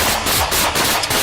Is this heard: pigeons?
no